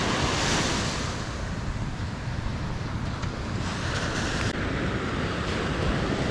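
Sea waves wash steadily onto the shore on a cold morning in La Union, a continuous broadband roar with wind buffeting the microphone and no voices.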